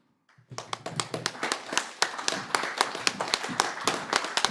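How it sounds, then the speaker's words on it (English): An audience at a talk on reparations for African people applauds a speaker, a burst of sharp clapping that starts abruptly after a brief pause and continues steadily at moderate loudness with distinct individual claps. "Another round of applause for Chris Lodgson."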